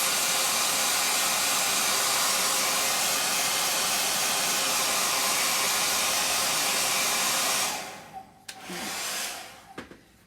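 A loud, steady blast of a hair dryer drying a chalk paste transfer runs for about eight seconds, then cuts off, restarts briefly and stops again.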